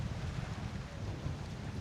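Wind blows across Bora Beach in Ksamil, Albania, at sunset: a continuous low buffeting rumble against the microphone with a faint wash of surf beneath, no voices.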